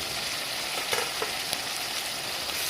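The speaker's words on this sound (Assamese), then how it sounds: "মাংসখিনি মই ভালদৰে লৰাই দিছোঁ।" Local chicken curry meat and tomato are stirred in a pan, sizzling steadily with soft scraping strokes of the spoon, close and fairly quiet, without voices.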